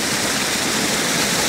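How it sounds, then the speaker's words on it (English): Running water pours steadily over a road in Pleasley Vale, a loud, continuous rushing and splashing close by with no break or voices. "it's running water"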